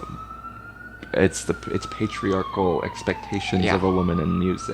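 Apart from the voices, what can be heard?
siren passing outside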